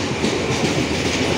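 A passenger train on an Indonesian line rolls past nearby, its cars rattling and clacking over the rail joints in a steady, loud, continuous roar with no voices.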